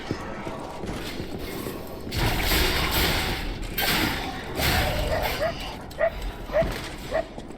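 A dog in the dark fantasy game Lies of P gives a short run of sharp yips and barks near the end, set against mechanical clanks and a rushing game backdrop.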